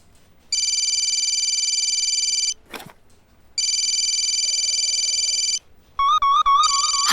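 An electronic phone ringtone sounds in two long, loud bursts separated by a pause, followed by a quick warbling melodic tone as a call is placed.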